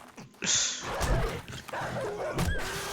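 A dog attacks in the 7 Days to Die survival game, giving snarling barks and yips amid gunshots and combat noise over a few seconds, while a player talks.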